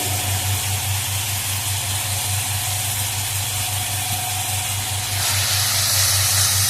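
Spiced chicken for biryani frying in a pan with turmeric, a steady loud sizzling hiss over a low hum that brightens toward the end, with no talking.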